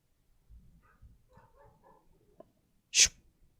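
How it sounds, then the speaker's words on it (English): Dog in a home, a few faint low whimpers and mutters followed by one sharp, loud single bark close by, then quiet. "My dog's been barking like crazy today."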